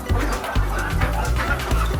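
Ducks kept on straw in winter quacking and clucking continuously, several birds close by in a loud, rhythmic chorus of nasal calls with no talking.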